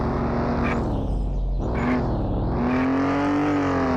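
A car in the horror adventure game Together BnB drives with a steady, loud engine drone that rises and falls as it revs, sliding about on loose handling for about four seconds with no talking.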